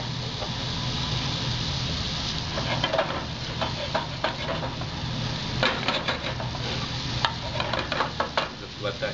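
Ham frying in a couple of tablespoons of olive oil in a hot pan gives a steady, close sizzle that crackles on for the whole stretch, with scattered brief pops and spatters over the hiss.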